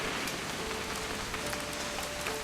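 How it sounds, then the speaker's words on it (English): Steady rain falls throughout in the video game What Remains of Edith Finch, a dense even hiss of drops on surfaces with faint patters and no speech. "It's gonna rain the whole weekend, isn't it?"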